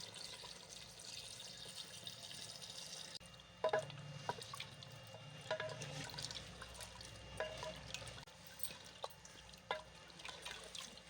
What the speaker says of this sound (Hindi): अभी हम इसमें पानी ऐड कर देते हैं ताकि जो आलू हैं अच्छी तरह से वो भी गल जाएं